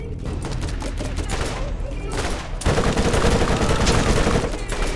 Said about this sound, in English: I am shooting him in the head here